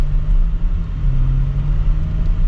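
Porsche Cayenne S engine heard from inside the cabin while driving, a steady low rumble with slight rises and dips as gears shift, continuous and fairly loud with no talking.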